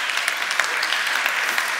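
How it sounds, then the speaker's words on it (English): A stage audience applauds a volunteer at a talk, producing dense, steady clapping from many hands throughout, loud and sustained without a break. "Please give him a round of applause."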